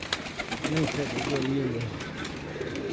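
Rooftop loft pigeons give low, rolling coos at close range, overlapped by people talking throughout.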